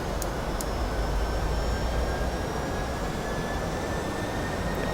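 The engines of a FlightFactor Boeing 757 in X-Plane 11 hold a steady, dense roar during a climb out of Phoenix. The broadband rumble carries faint high whining tones and stays constant, with no talking.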